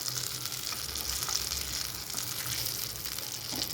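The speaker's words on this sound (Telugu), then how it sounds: "మొయ్య చేపల ఫ్రై అన్నమాట" Moyya fish fry in a pan, with a steady, dense sizzle of hot oil throughout. It is fairly quiet and close, with no voices.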